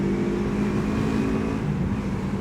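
An SM Sport SM3 400cc motorcycle rides at high speed, its engine a steady, loud, continuous drone with rushing wind noise and no pauses, no voices heard.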